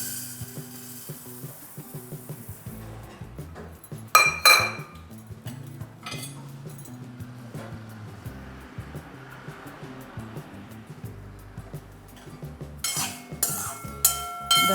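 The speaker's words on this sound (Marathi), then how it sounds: "तर आता आपण याला धने सुरुवातीला भाजून घेऊ।" Coriander seeds dry-roasting in a pan for garam masala, a spoon stirring and scraping them with intermittent clinks against the metal, close and moderately quiet with a faint rustle between strokes.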